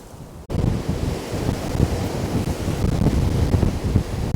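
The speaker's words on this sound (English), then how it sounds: "The wind's fair picked up now" Strong gusting wind at Anglezarke reservoir in Lancashire, a loud continuous roar buffeting the microphone after a brief quiet start, with no voices.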